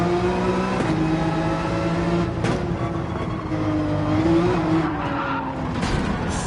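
A race car in a racing video game snaps into oversteer, with tires squealing and skidding over steady engine roar, loud and continuous, with pitch shifts as the car slides.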